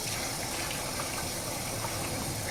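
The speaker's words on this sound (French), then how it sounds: "je vais partir mon bain. On le met à l'eau tiède." Lukewarm water pours steadily into a bath, a continuous close rushing gush with no pauses or other sounds over it.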